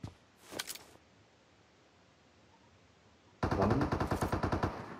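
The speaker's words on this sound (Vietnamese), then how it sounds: "tiếng súng trước mặt luôn mà vẫn không thấy anh em ơi" Gunfire in the mobile battle-royale game PUBG Mobile: a brief automatic burst early on, then quiet, then a loud rapid string of shots near the end, with no voices.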